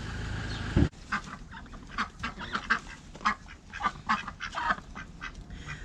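Ducks kept in a garden quack in a lively run of short, nasal calls, fairly near and moderately loud. A brief bump near the start precedes the steady chatter of the flock.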